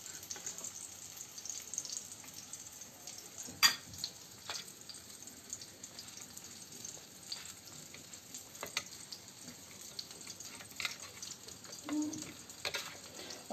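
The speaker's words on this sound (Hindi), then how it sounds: "अब मैं इसमें जो हमारा आटा है वो मिक्स कर देता हूँ" Flour is stirred into a mixture in a pan, giving a soft, continuous sizzle and scraping with a few sharper knocks of the spoon against the pan, close by and moderately quiet.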